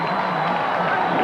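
A rugby crowd at Carlaw Park in Auckland roars at full time of the 1992 Pacific Cup final between Tonga and Samoa, a loud, unbroken swell of cheering voices.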